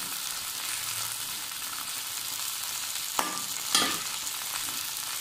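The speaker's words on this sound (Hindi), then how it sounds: "जैसे ही ये भिंडी फ्राई होना शुरू हो जाएगी" Okra (lady finger) frying in a pan gives a steady close hiss and sizzle, broken by a couple of sharp clinks from a utensil, with no one speaking.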